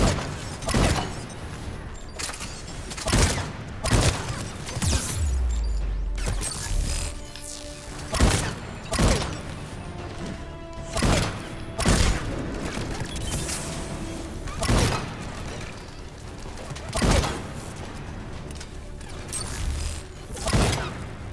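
Power pistol shots in the video game Mass Effect 3, a series of loud, sharp bursts repeating at irregular intervals over a busy game soundscape of mechanical noise and occasional booms.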